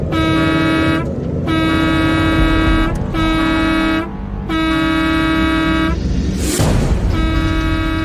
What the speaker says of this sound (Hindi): और एक बार फिर लगातार वो बस ड्राइवर हॉर्न बजाता रहा।